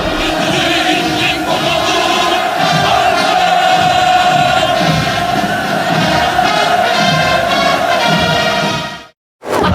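A large North Korean crowd roars in a sustained, loud, tonal chant-like cheer, a massed drawn-out vocal sound that holds steady before cutting off abruptly near the end.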